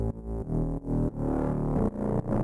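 Synth bass from a single sample in a granular instrument with its amp setting turned off: a dense, buzzy low tone repeats in choppy bursts with short breaks, heard alone.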